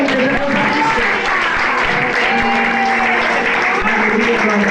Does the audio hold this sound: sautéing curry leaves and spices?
no